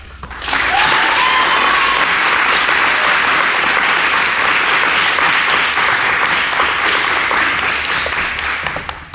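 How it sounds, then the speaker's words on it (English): A large crowd at an awards night bursts into loud, sustained applause that swells quickly and holds steady, with a faint whistle near the start, before tapering at the end. "Let's give a well-deserved round of applause for Coach Stephanie, Coach Jeremiah, and Coa"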